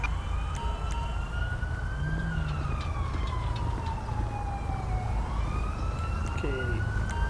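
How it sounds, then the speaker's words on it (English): An ambulance siren in the video game GTA V wails with a slow, sweeping rise and fall, steady and moderately close over a constant low engine rumble. "Ambulance. Assistance required in Little Seoul."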